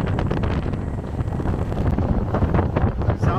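Strong wind roars across the microphone during a speedboat ride at sea between Phuket and the Phi Phi islands off Thailand. The buffeting is loud and steady, with engine and water rush underneath and no one talking.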